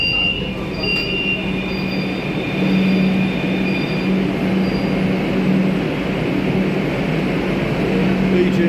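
A Kolkata Metro train runs on the new Taratala to Joka line, a steady loud rumble of wheels and motors with a sustained low hum and faint high whine throughout.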